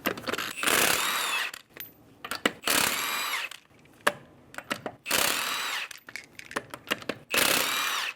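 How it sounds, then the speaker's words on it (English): An impact wrench fitted with a 21mm socket removes the lug nuts from a Hyundai Sonata wheel, giving five loud, close whirring bursts of about a second each, separated by short pauses and metallic clinks. "Using a 21mm socket, remove the 5 lug nuts."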